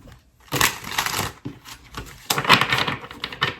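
A deck of cards is shuffled close by, with bursts of riffling and shuffling in repeated rounds separated by short pauses.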